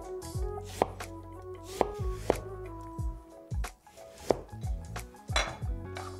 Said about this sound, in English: We'll first cut the orange in half, then cut it into quarter-inch slices.